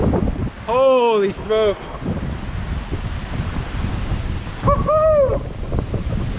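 Wind gusts at Inudey Falls, a waterfall in the Philippines: a steady broadband rush of moving air and microphone buffeting runs through the clip, with excited shouts near the start and again near the end.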